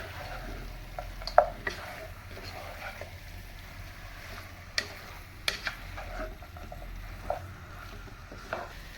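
Chicken pieces and curry leaves being stirred in a hot pan, with a low steady sizzle and scattered scraping clicks and taps of the spoon against the pan, fairly quiet and close.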